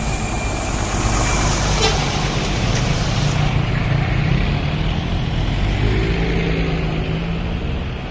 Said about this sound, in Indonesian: Tanabe Pason di balik kemudi yang baru datang dari Ciawi kelas royal teman-teman ya